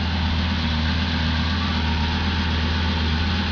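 A 2004 Lamborghini Gallardo, a repairable salvage car, idles with a steady, even low rumble and a constant mechanical hum throughout, heard close and alone.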